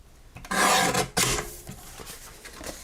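Trimming the edges of a craft piece: two loud, broad rasping strokes close by, the first about half a second long and the second briefer, then quieter scraping and handling noises.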